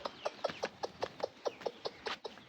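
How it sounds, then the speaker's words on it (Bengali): Hens clucking just before being fed, a quick run of about a dozen short, evenly spaced clucks, close and fairly loud, with no talk. "আর এদিকে আমার মুরগিগুলো খেতে দিব"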